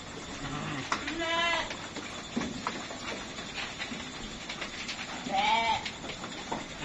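Goats and young goat kids, including twin kids, bleat on a farm in several wavering cries, one near the start and a louder one toward the end, over steady background noise with some talk.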